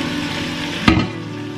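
Hard squash pieces drop into a hot frying pan with a sharp burst of sizzle over a steady background fry, the crackle flaring briefly then settling.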